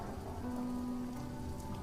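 Rain falls in an animated series scene, a soft, steady, fairly quiet wash of drops with a faint low hum underneath and no talking.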